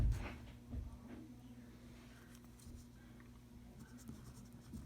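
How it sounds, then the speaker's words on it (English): Marker or chalk strokes on a board, soft scratchy scraping in short bursts, faint and close, with no talk over it. "I'll write that here also just so we have that here"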